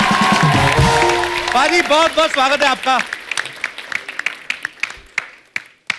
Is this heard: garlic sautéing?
no